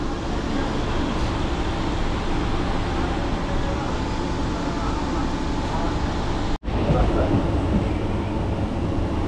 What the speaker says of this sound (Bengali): কাথি থেকে আমাদের ট্রেন ছেড়েও দিল